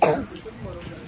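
A child gives a short, close cough at the start, followed by a quieter throaty tail and faint voice sounds.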